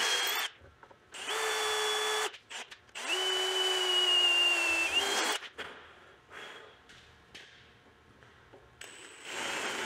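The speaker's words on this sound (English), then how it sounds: "Now we grab our drill." A power drill whirs in two sustained bursts, pitch steady then dipping under load, followed by quieter tool handling and clicks.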